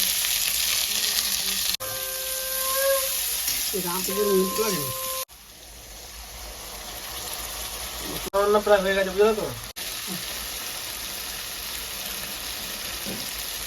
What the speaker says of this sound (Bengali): মা এখন পেঁয়াজ ভাজছে